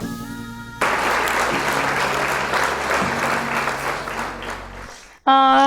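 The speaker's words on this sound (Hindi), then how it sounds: "तो स्वागत करते हैं जोरदार तालियों से ओडीएस के को फाउंडर का" Loud applause from an audience welcoming the co-founder of ODS onto a stage, dense clapping that bursts in over background music, carries on for several seconds, then fades before the music swells again.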